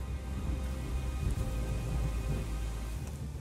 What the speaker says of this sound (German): Der Donner ruft, da lang.